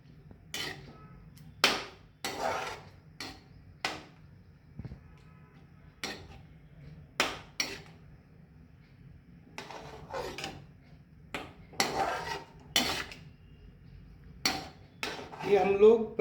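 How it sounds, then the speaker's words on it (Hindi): A spoon scrapes and knocks repeatedly against a pan while banana halwa (sheera) is stirred, making a string of irregular metallic clinks and taps over a quiet background. "अब ये थोड़ा देर हिलाते रहने का"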